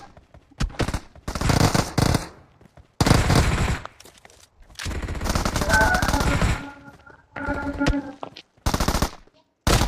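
Gunfire in the video game PUBG Mobile, repeated loud automatic bursts separated by short gaps, some overlapping with tonal game sounds, close and harsh throughout.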